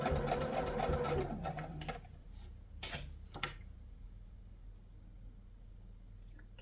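A sewing machine runs a straight stitch around the top edge of a crocheted tote bag's fabric lining, a dense mechanical whir for about two seconds, then a few isolated clicks and handling sounds in a quiet room.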